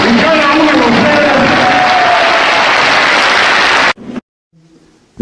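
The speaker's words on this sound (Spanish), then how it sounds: "Un fuerte aplauso para todos y cada uno de ustedes." Audience at a law conference applauding, a dense sustained wash of clapping and crowd noise that holds steady for about four seconds and then cuts off abruptly to near silence.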